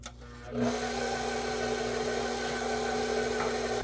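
An electric mixer on its lowest speed blending butter pecan coconut pound cake batter, starting abruptly and then running with a steady whirring motor hum, close and alone.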